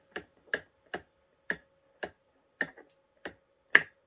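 The on/off button of a stainless steel 6-gallon wet/dry vacuum is pressed repeatedly, giving eight crisp, close clicks about half a second apart in an otherwise quiet room.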